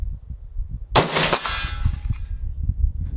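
An AR-10 rifle fires a single sharp, loud shot outdoors, a sudden crack followed by a brief ringing decay over low background rumble.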